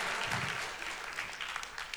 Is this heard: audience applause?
yes